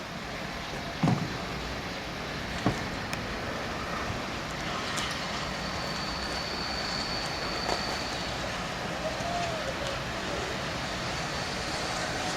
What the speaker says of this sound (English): This is one monster of a locomotive, isn't it?